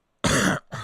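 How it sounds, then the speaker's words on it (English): A man with a cold clears his throat and coughs, one harsh close burst followed by a shorter second one, with no talking. "So you're going to have to work through that cough"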